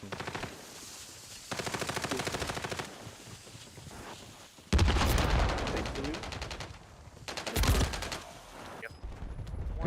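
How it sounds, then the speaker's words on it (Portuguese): Bursts of gunfire in the video game Call of Duty Warzone, with stretches of rapid automatic fire and heavier loud blasts, some near and some more distant, while a voice talks over parts of it. "O time atirando em mim."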